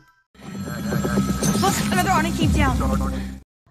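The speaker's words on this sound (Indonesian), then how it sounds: "Dering telepon tiba-tiba terdengar saat itu." A telephone rings in a film scene set in a shop, with a repeated electronic bell tone over about three seconds, fairly loud and close, with sound effects mixed in.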